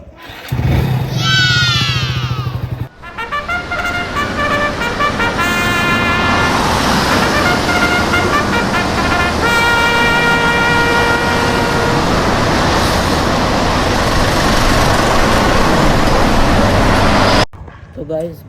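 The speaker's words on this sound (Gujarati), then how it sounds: "હવે કરી બાઇક ચાલુ." A motorcycle engine starts and runs continuously through traffic, a steady loud drone with passing vehicle noise and wind, ending abruptly near the end.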